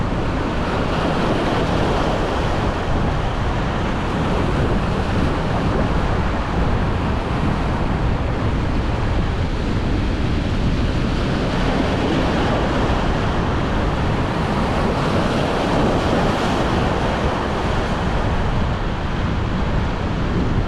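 Ocean waves break into white water surf in a steady, loud roar of rushing water and wind noise that never lets up.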